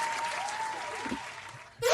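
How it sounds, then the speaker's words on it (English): Applause after a podcast host calls for it, a steady wash of clapping heard alongside a voice, ending in a sudden louder burst. "Round of applause."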